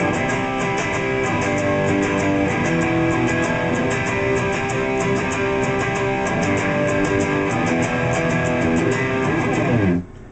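Continuous guitar strumming through a song's chord progression, dense and loud from start to finish, ending abruptly, no voices.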